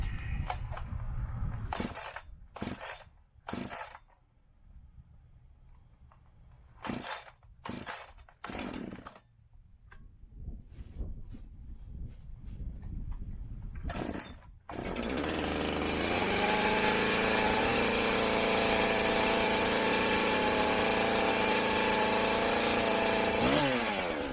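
A Stihl, Husqvarna or Echo pro chainsaw with decompression valve, choke and throttle set is pulled several times with rattling bursts, then catches and runs continuously at a loud, steady roar up close.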